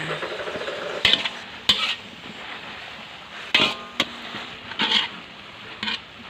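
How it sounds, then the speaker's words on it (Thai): Mexican kale and sliced chili stir-fried in a pan with a soft sizzle, broken by several sharp clanks and scrapes of a metal utensil against the pan. "ผัดสักพักหนึ่งนะคะให้พริกสุก"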